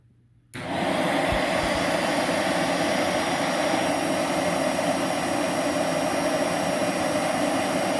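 A Dyson UP20 Animal 2 vacuum cleaner with its wand attached switches on after a moment of quiet, then roars with a loud, steady, close whooshing drone that continues to the end.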